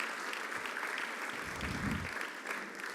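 Audience applause following a presentation at a 2018 governor's symposium, a steady wash of clapping throughout, moderately distant and even in level.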